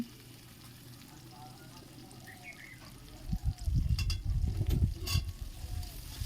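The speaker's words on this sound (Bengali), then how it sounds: "মশলাটি একটু ভাজা হয়ে গেলে দিয়ে দিতে হবে টমেটো কুচি।" Spice mix frying with chopped tomato in a pan for mung dal: a soft steady sizzle that grows louder and busier midway as stirring clatters in, with faint kitchen noises.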